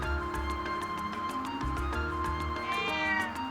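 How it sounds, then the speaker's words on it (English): A cat meows several times in the video game Trails of Cold Steel, clear and close, with a sustained tonal music bed playing beneath the calls. "There's a cat."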